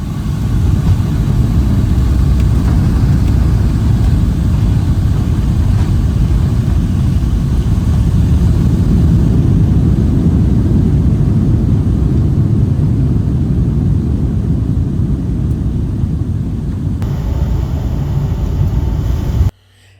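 A Delta airliner lands on runway 8 left at Atlanta's Hartsfield-Jackson airport. A steady, heavy low rumble of engine and cabin noise runs unbroken for about twenty seconds, then cuts off abruptly.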